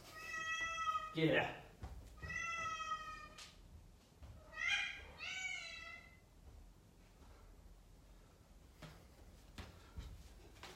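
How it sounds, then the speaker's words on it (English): A cat meows several times, fairly faint and spaced apart, with a person's voice briefly speaking nearby. "Can you hear my cat?"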